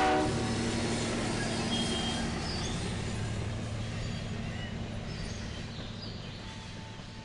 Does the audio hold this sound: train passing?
yes